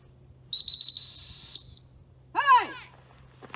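A dog training whistle gives a long steady shrill blast, then a short warbling trill, used on an 11-month-old Deutsch Langhaar during field work, loud and close with faint background hum.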